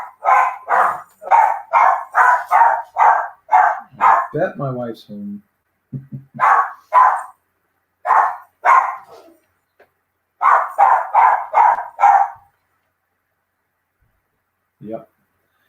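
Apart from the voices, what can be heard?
dog barking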